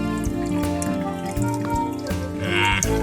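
Water drains from a Crown MS40 water heater being flushed, a steady loud splashing and gushing flow that swells slightly near the end.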